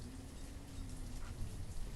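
Steady rain falls in the village-building game Banished, a soft, even patter of drops hissing continuously with a faint low hum beneath and no voices.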